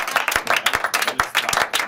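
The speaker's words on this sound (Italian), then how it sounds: "facciamo un bel applauso" Claps ring out on a radio show, a small group clapping in uneven bursts with crisp, close hand slaps over a short stretch.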